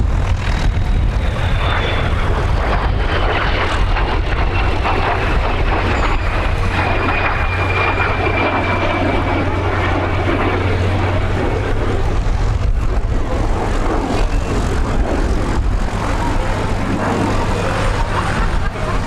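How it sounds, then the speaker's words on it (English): A propeller-driven airplane flies at the Little Gransden Air and Car Show airshow, its engine drone loud and continuous throughout with a slowly falling pitch as it passes close by. "Such a sleek aircraft."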